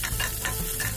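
Chopped onions frying in oil for chili chicken, a close, soft sizzle with light stirring scrapes and brief bursts of crackle.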